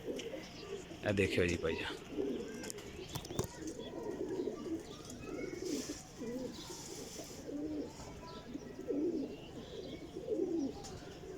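Breeder pigeons, a pair with a white male and a pearl-marked female, coo softly in a loft amid occasional wing flaps and chirps, while someone talks over them close by.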